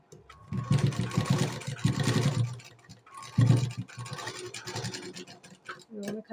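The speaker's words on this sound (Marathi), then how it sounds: "मी आता ह्याला इथून शिलाई मारून घेते खालच्या साईडून." A sewing machine stitching a blouse sleeve runs in bursts, loud and close, with rapid mechanical chatter that stops and restarts several times.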